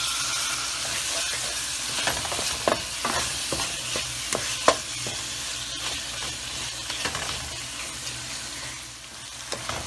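Tomatoes cooking in a frying pan for shimla mirch keema, a continuous sizzle with repeated spatula stirs and taps against the pan, close and fairly loud, without speech.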